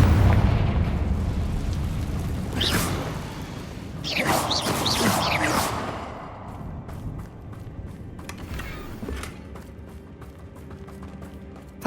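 A Confringo spell bursts in Hogwarts Legacy with a heavy, rumbling blast, followed by crackling debris and smaller pops that trail off over several seconds, with no talking.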